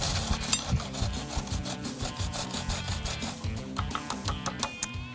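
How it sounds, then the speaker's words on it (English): Purple cabbage is grated by hand for a plant-based burger-and-fries meal. Close, rhythmic rasping strokes repeat quickly and evenly against the grater, with no talking. "I also grate it by hand. So you just want to start by grating it."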